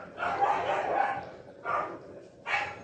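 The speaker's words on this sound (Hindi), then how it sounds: "कुत्ता आ गया" A dog barks close by, first a long drawn-out bark and then two shorter, separate barks.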